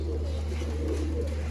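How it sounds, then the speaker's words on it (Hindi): Red-cheeked Indian Lakha pigeons coo in low, continuous murmuring calls, close by, over a steady low electrical hum. "प्योर इंडियन लाख है दोस्तों। लाल गलों वाले कबूतर आप बोलेंगे।"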